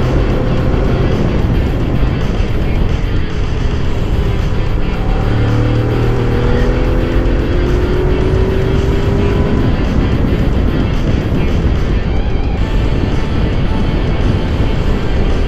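Honda VFR sport GT motorcycle ridden along mountain roads between Puy-de-Dôme and Cantal, its engine droning loud and steady throughout with wind roar and shifting pitch as the throttle rises and falls.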